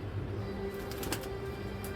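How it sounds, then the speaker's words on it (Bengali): Pigeons coo softly in a loft, a low murmuring call over a steady background hum, with a short burst of wing flutter or rustle near the middle; quiet and fairly close. "ওর কবুতর অল্প তো দেখাতে পারি, নিচে নামে এই কবুতরগুলা।"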